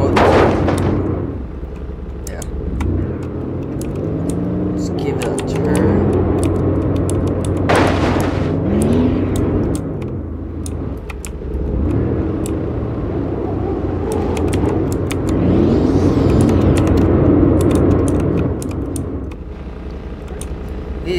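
A stock 2021 BMW Z4 accelerates in the Roblox game, its loud engine climbing in repeated rising revs with shifts between, interrupted by sharp bursts.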